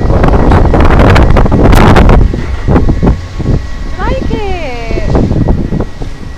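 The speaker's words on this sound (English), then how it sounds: "Windy." Gusty wind buffets the microphone heavily at first, then eases, with muffled voices and a few chirping sounds, recorded riding the Balloon Race ride at Flamingo Land.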